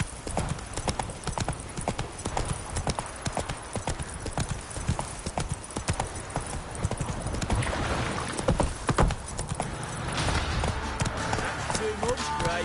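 Roach the horse gallops in The Witcher 3 with steady, rhythmic clip-clop hoofbeats throughout, loud and close, over game ambience, and a voice speaks briefly.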